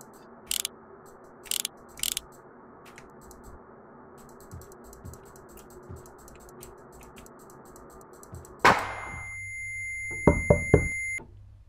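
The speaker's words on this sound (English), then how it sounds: "Who's knocking on my door?" Three sharp knocks on a door in a horror video game, evenly spaced and close, followed by quiet ambience and then a sudden electronic tone with more clattering bursts.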